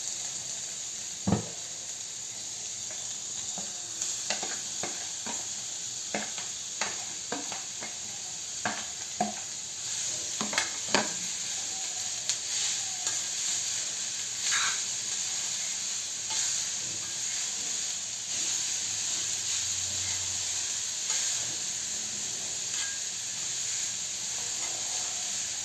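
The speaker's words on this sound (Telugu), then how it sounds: "దీనిలో ఇప్పుడు మనం ఈ తురుము ఉంచుకున్న బీట్రూట్ కూడా వేసేసుకుందాం." Grated beetroot sizzling steadily in a hot pan with tempered spices for a beetroot curry, with a series of scraping stirring strokes and spoon clinks against the pan throughout.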